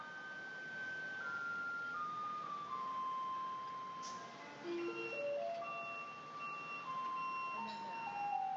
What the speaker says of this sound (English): It really does sound like an ice cream truck.